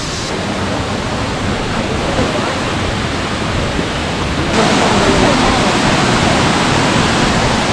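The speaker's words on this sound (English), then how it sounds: "This is a waterfall called De la Virgen." The Cascada de la Virgen waterfall in Baños, Ecuador roars as a loud, steady broadband rush of falling water that fills the whole clip and grows slightly stronger partway through.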